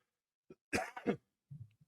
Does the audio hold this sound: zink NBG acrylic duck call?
no